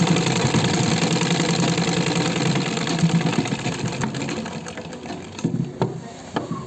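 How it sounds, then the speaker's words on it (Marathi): A sewing machine runs a seam along the right side of fabric with a loud, steady mechanical whir. The motor winds down and stops near the end, leaving a few clicks, and no one talks. "बघा मी सुलट्या बाजूने टीप मारत आहे"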